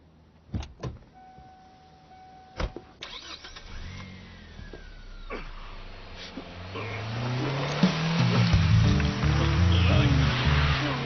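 A car engine cranks and starts after a few sharp clicks and thumps, then settles into a rising, revving idle that grows steadily louder toward the end.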